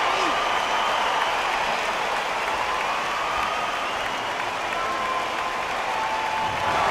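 Arena crowd in the boxing video game Undisputed after a TKO, a dense wash of cheering and clapping that runs steadily throughout, with commentators speaking over it.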